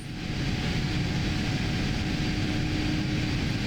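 A PMDG 777 airliner in flight in Microsoft Flight Simulator, a steady, loud, broadband engine and cabin roar with a faint hum, continuous and unchanging.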